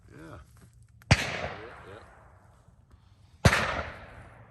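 Two sharp, loud Mauser rifle shots ring out at a shooting range a couple of seconds apart, each with a decaying echo, with faint talk between them.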